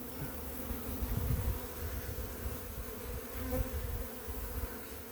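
Honeybees buzz loudly and continuously around an open hive during an inspection, a close, dense drone that swells and eases slightly but never stops.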